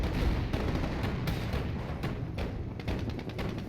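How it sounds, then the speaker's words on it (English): AT rifles firing at a Panzer II in Company of Heroes, a dense run of muffled gunshots and booms over continuous battle rumble. "they should be watching these AT rifles. They're taking pot shots on this Panzer II."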